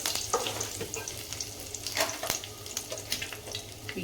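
Mustard seeds and curry leaves crackle and spit in hot oil, with sharp pops scattered over a soft, close sizzle while okra fry is being made.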